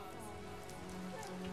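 Steady rain falls in the Lara Croft and the Temple of Osiris video game, a continuous soft hiss of drops pattering on a surface, evenly loud throughout with no talk.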